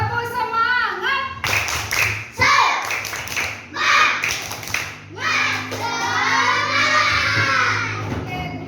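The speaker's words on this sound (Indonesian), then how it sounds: "mari kita tepuk semangat dulu supaya anak-anak tetap semangat hari ini ya" A primary school class claps out a rhythmic tepuk semangat chant in bursts of quick claps, with children's voices shouting along between and over the clapping.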